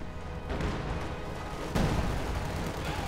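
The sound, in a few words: Panzerfaust firing at a Katyusha in the video game Company of Heroes 2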